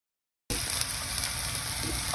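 Swordfish sizzles on a Blackstone griddle set up beside an RV, a steady loud frying hiss that begins abruptly and holds with no talking.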